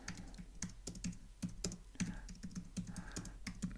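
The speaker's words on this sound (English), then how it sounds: "you can see me typing" Rapid clicking keystrokes on a computer keyboard, close and fairly steady, with irregular bursts and brief pauses, no talking.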